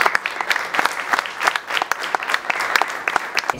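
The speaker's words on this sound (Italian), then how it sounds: "Io vorrei ricordarla con un applauso." Audience applause at a theatre festival press conference held in memory of a woman, a dense, steady patter of many hands clapping at moderate volume throughout.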